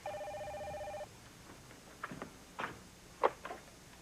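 A telephone rings with one electronic trill that lasts about a second and then stops. A few soft knocks and shuffles follow at moderate volume, with no speech.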